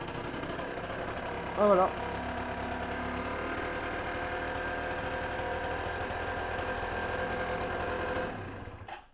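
Small 50cc scooter engine running at a steady idle, an even, buzzy drone that holds for about eight seconds before cutting off, with a brief spoken remark early on.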